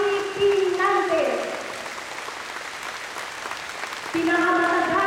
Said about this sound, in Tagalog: Pinakamatagal at pinakamahabang palakpak para sa ating minamahal na Governor Rafi P. Nante.